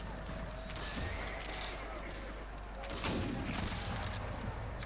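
Black-powder muzzle-loading muskets fire in a battle near Zurich in 1799, a dense continuous barrage of overlapping shots and booms with a louder surge partway through, no speech.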